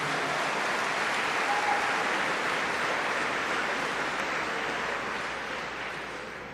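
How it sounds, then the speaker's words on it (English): Sustained audience applause for a speaker at a religious gathering, a dense steady wash of many hands that stays loud and gradually thins toward the end, with no talking over it. "One more round of applause for Brother Nuri Muhammad."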